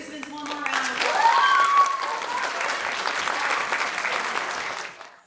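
An audience at a middle school literacy day event gives a sustained round of applause for 8th grade participants, steady dense clapping with some voices, tapering off at the end.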